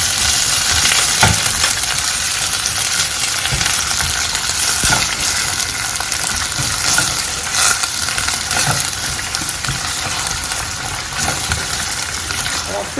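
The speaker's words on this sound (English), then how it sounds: "So now we will start with the coconut oil first, and I'll just go ahead and add my onion." Onion frying in coconut oil for gari fortor, a loud, steady sizzle with occasional stirring scrapes and knocks of a utensil in the pan.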